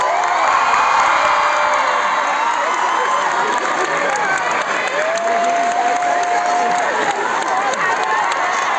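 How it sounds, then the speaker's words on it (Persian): Concert hall audience applauding in a loud, dense wash of clapping with cheers and whoops mixed in, sustained without a break from start to finish. "لطفاً کل سالن تشویق کنید به افتخار سید جواد هاشمی"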